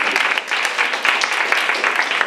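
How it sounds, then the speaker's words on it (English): A short burst of audience applause after a talk on water desalination, moderately close clapping from a room of listeners with individual hand claps poking through the wash. "So please, everybody, give a big round of applause."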